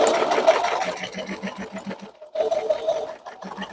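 Sewing machine stitching a quilt appliqué in short runs, with a regular pulsing rhythm, a brief pause, then a few more stitches close up.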